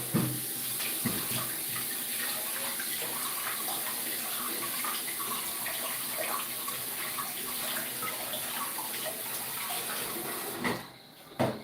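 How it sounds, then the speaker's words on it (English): Running tap water pours steadily as hands are washed under it at a sink, a continuous close hiss and splash that stops abruptly near the end. "Let's wash my hands."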